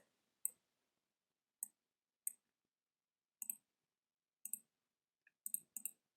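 Computer mouse clicking during text editing, sharp close clicks heard one at a time and in quick pairs and clusters, separated by near silence.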